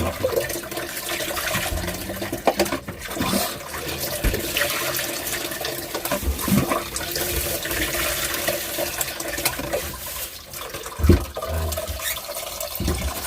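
Water is poured in to soak squash, a continuous running, splashing flow like a tap filling a container, steady with a few louder splashes and knocks along the way.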